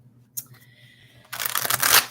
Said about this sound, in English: I'm going to shuffle a bunch this time just to make sure that